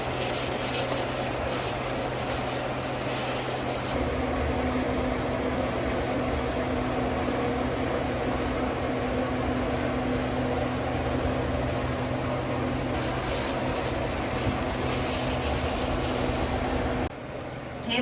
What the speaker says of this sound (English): Table is sanded to 220 and is ready for finish.